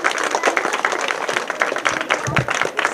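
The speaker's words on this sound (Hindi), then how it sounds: "एक बार इनके लिए जोरदार आप सभी लोग तालियां बजाएंगे।" An audience claps loudly for a guest at a community event about slum colony children, a dense, continuous round of applause with scattered crowd noise.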